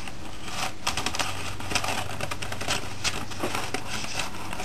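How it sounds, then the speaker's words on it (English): Scissors cutting a square of newspaper, roughly 20 to 30 centimetres wide, while making a smoke bomb from a ping pong ball: a steady run of close, crisp snips and paper rustles with no talking. "Now take a newspaper, cut out a square."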